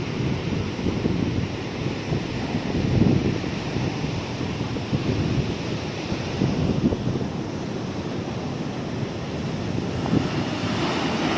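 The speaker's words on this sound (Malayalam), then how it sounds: "ഇപ്പം മൺസൂൺ ടൈമാണ്, അതുകൊണ്ട് കടൽ നല്ല ഇളകി കിടക്കുക." Rough monsoon sea waves on the Konkan coast of Maharashtra make a continuous, dense roar of surf mixed with wind buffeting the microphone, steady and fairly loud throughout.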